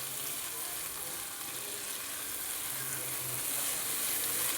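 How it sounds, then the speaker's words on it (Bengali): Chhana, cottage cheese made from split milk and squeezed dry, sizzles steadily in a spice masala for an aloo-chhana kosha, a continuous close frying hiss with faint stirring scrapes and no voice. "এবার এই মশলাতে ভালো করে আমি কষিয়ে নিচ্ছি"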